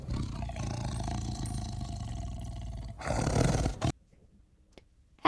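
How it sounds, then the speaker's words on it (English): A tiger's deep, rumbling roar fills nearly four seconds at close range and high volume, breaking off abruptly into near silence. "tiger,"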